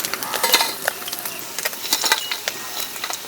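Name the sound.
fish frying with green chili and ginger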